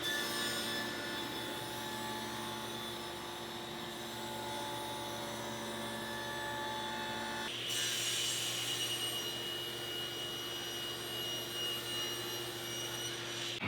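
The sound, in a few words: table saw with stacked dado set cutting a dado in MDF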